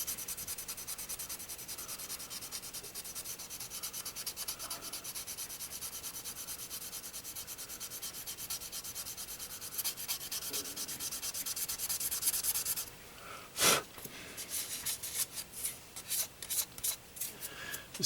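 Sandpaper rubs steadily over gouge marks on a classic car's body panel in close, continuous scratchy strokes, then a brief clunk and a run of quicker, choppier rubbing passes.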